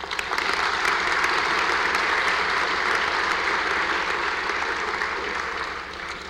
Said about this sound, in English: let us share in a brief round of applause for them